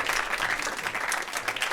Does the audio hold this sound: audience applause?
yes